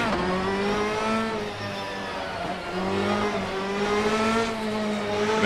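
Ginetta GT3 race car in the Assetto Corsa video game, its engine revving up through gears with clear pitch climbs and drops between shifts, loud and close with no talk.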